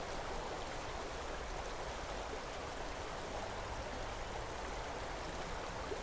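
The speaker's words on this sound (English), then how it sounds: "So I invite you just to be with me, to spend a little time here with this river." Glacier-fed mountain river flowing, a steady, dense, even rush of water that holds at the same level throughout, soft and continuous with no other sounds or voices.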